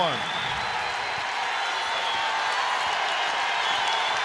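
A basketball crowd in an NCAA men's game between Omaha and South Dakota State, cheering and applauding in a dense, continuous roar, with a commentator's voice faintly under the noise.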